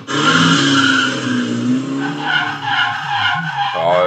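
Race cars skid with loud, sustained tire squeal in a racing-themed slot machine game, filling the whole moment with continuous screeching and engine noise, with a brief rising whine near the end.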